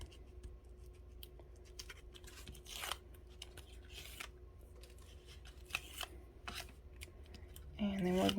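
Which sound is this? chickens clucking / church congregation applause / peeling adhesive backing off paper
peeling adhesive backing off paper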